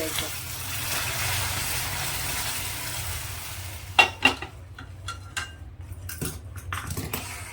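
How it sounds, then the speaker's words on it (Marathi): Hot caramel is stirred into milk in a pot, with a soft bubbling hiss at first and then sharp metallic scrapes and clinks of a spoon against the pot, close by. "हे गरम गरम कॅरमल आहे ना आपल्याला या दुधामध्ये घालून घ्यायचं थोडं थोडं घालायचं सुरुवातीला आणि हलवत हलवतच घालून"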